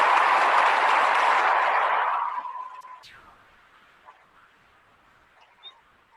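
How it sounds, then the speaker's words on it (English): Hand-clapping applause on a live talk show, a loud burst of clapping that fades out after about two seconds, leaving near silence with a couple of faint small sounds. "You get a hand clap for that."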